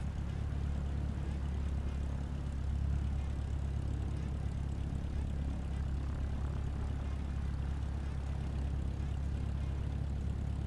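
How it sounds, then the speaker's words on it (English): A light aircraft taxiing quickly in Microsoft Flight Simulator, a steady low engine and propeller drone that stays constant and moderately close throughout, with no voices. "Going to taxi back to the ramp. Taxiing really fast."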